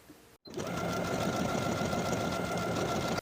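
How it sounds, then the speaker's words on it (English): A sewing machine stitches buttonholes on a dress placket, a steady close mechanical whirr running continuously after a brief pause at the start. "Now I'll sew the buttonholes in place."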